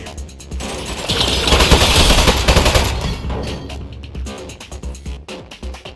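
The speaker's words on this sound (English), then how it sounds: "Oh jeez, it's got a gun! It's an ambush!" Turret gunfire in the video game Aperture Desk Job, dense rapid bursts of automatic shots that swell and fade over several seconds, loud and close.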